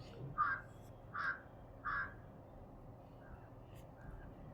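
A crow caws three times at an even pace, faint and somewhat distant, over a low steady background hum. Two softer calls follow.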